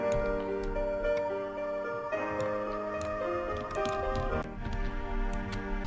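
A mellow chillstep track in production plays with sustained synth chords, soft ticking percussion and a low bass, steady and moderately quiet, with no talking.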